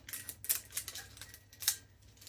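Wrapping pulled off a sublimation-printed tumbler tears with a few quick, crisp rips and crackles up close, in short irregular bursts with no talking.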